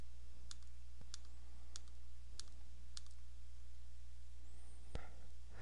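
Sharp computer mouse clicks on buttons in Peachtree accounting software, five evenly spaced single clicks roughly every half second to second, close and crisp over a low steady hum, ending with a heavier click.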